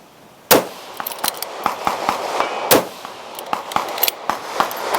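Rifle shots from a PRS precision rifle ring out as two loud sharp cracks about two seconds apart, each followed by faint metallic clangs of impacts on a steel target 500 yards away, run as a speed stage.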